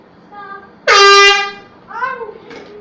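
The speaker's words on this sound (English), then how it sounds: "This is the air horn scare prank." An air horn blasts once in a scare prank, a loud sudden honk lasting about half a second, followed by a startled shriek and a quieter horn-like tone.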